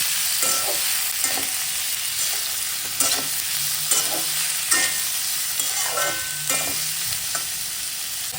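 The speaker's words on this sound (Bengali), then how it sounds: "এবার আলু, কুঁদরি, পেঁয়াজ খুব ভালোভাবে নেড়ে চেড়ে নেব।" Potatoes, ivy gourd and onion stirred in a frying pan: a spatula scrapes in repeated strokes while a steady sizzle of frying continues underneath, close and fairly loud, with no voices.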